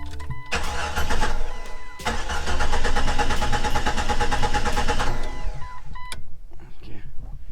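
A 1997–2001 Jeep XJ engine cranks with a rapid rhythmic churn, pauses briefly, then cranks again for several seconds before stopping, recorded close up under the hood with no talk.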